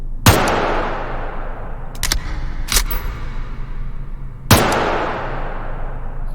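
A Russian ADS amphibious rifle fires three sharp single shots, widely spaced and loud, with a lighter metallic click or two between them and a steady low rumble of background noise underneath.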